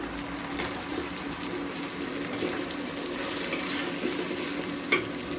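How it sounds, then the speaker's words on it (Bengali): Fish cooking in a pan with ginger garlic paste and tomato on an electric stove, giving a soft, steady sizzle with light stirring scrapes and a faint clink near the end. "ডালটা হয়ে গিয়েছে, এখন আমি মাছটা ভুনা করে ফেলছি।"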